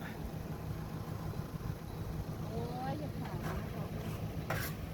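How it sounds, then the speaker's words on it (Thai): Wind blows steadily in an outdoor setting, a constant broadband rush with gusty buffeting on the microphone, while people talk faintly in the background. "ลมมาแล้วจ่าลมมาแล้ว ลมมาแล้ว"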